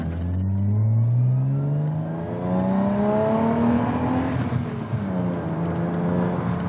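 A BMW E36 engine, running very rich, revs steadily higher while driving, its rising harmonic whine climbing loud and close, then dipping briefly before pulling up again.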